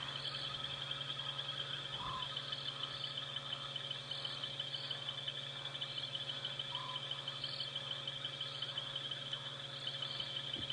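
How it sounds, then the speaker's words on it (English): A calm night chorus out on a safari drive, with frogs and insects trilling continuously, faint bird calls and a scops owl hooting distantly in a steady, repeating rhythm. "Can you all hear the lovely birds and frogs and the scops owl that's calling in the distance?"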